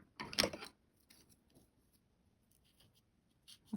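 Scissors snip through yarn while finishing a crocheted amigurumi sloth toy, one short, close crisp cut followed by faint rustling and a small click at the end.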